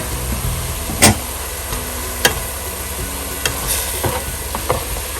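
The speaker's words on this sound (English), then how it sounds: "we're going to add the carrots. Just add those in, and we're going to do exactly the same. We're going to fry these off as well." Carrots frying in a pan for Sri Lankan style noodles give a steady soft sizzle, with a few sharp scrapes and knocks of a utensil against the pan as they are stirred.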